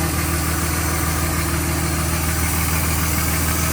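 The 5.9L HO Cummins diesel of a Dodge Ram 3500 rumbles in a steady, low staccato chatter, the rapid pulsing drone of its engine brake running close by without pause.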